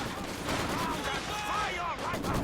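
Maxim machine gun fire in Company of Heroes 2, garrisoned in a building, sounds as a steady rattle under a commentator's voice in a 1v1 match.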